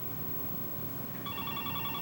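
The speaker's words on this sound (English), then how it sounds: "Damn it, Bill, answer the phone." A telephone starts ringing partway through with a repeating electronic trill, moderately close over a steady room hum, with no talking.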